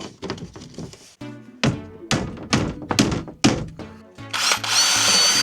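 Power drill boring holes for M6 bolts through a campervan wall panel, with sharp thunks and taps between short bursts of drilling, close and loud, ending in a sustained high whine.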